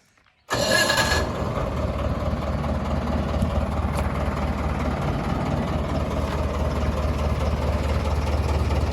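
A JCB backhoe loader's diesel engine cranks briefly, then settles into a steady, loud, low rumbling idle that carries on without a break, with no talk over it.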